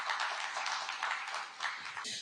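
Loud, continuous clapping from a studio audience greeting a Union Minister on the Bharat 24 stage, a dense patter of many hands sustained across the whole span.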